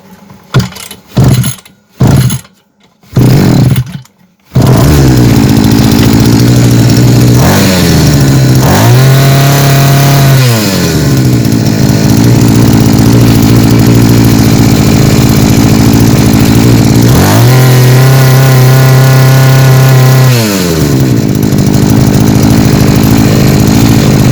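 A Kitprom petrol brushcutter, just fitted with a new carburettor, sputters through a few failed start pulls, then catches and runs loud and close, revving up and down twice before settling into a steady roar.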